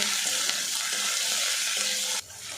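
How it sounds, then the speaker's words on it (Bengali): Ginger-garlic paste frying with onions for a potato curry, a loud close hissing sizzle with stirring scrapes, dropping suddenly in intensity near the end. "আরও কিছুক্ষণ নাড়াচাড়া করে ভেজে নেবো"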